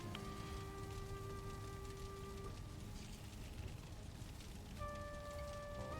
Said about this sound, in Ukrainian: Там дощи на улице и все такое.